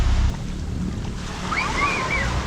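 Sea waves breaking at Nirwana Beach in Padang, West Sumatra, a steady broad wash of surf mixed with wind noise on the microphone and faint high chirping sounds in the background.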